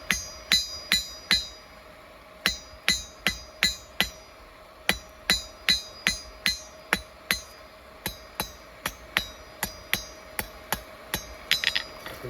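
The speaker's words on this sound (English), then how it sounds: "I switch hammers a lot, and I like to use various different hammers for different things" A forging hammer strikes old spring steel being shaped into a bushcraft knife: bright, ringing metallic blows land close and loud in quick, steady bursts with short pauses between runs.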